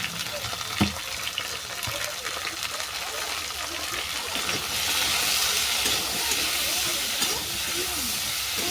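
Potatoes and shrimp frying with vegetables in a pan, a steady sizzling hiss that swells louder partway through, with occasional stirring clatter and no talk.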